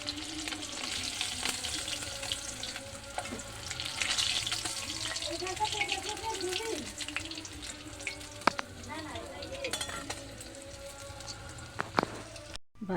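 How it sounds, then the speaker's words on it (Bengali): Bele fish fry in oil in a kadai, giving a continuous, close-up sizzle with crackles and occasional utensil clinks and scrapes throughout. "বেলে মাছগুলো ভাজা হয়ে গেছে"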